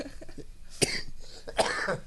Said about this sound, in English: The cough just doesn't want to go away.